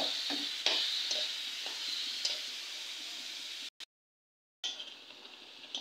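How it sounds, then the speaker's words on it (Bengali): Potatoes and long beans stir-fry in a pan, a soft sizzle under steady spatula stirring and light taps, broken by a brief silent gap near the end before the frying returns. "বরবটিগুলোকে সুন্দর করে কষিয়ে নেব।"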